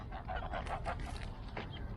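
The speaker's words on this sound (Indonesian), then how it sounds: "nah sekarang Raina kasih makan bebek angsa" Geese honking near a feeding spot, a quick run of nasal honks overlapping close by.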